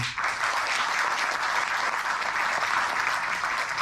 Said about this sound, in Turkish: Timur Onan ve Zehra Çöplü alkışlarla.